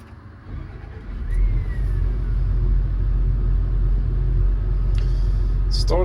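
A Caterpillar CAT 324E excavator with an oil leak and heavy blow-by cranks and catches, then settles into a loud, steady low diesel rumble that continues close by.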